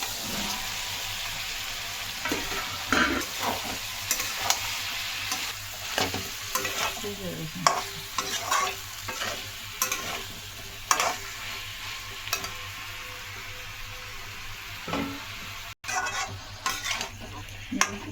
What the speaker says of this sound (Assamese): ভাজি থাকিম এতিয়া মছৰুমখিনি।